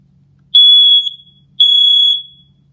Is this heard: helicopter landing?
no